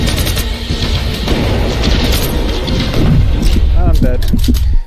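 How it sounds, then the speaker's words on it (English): Rapid explosions and laser fire in the sci-fi action RPG Everreach: Project Eden, a dense, loud, continuous barrage of booms and blasts with a few sharp zapping tones near the end. "It was just explosions and lasers everywhere."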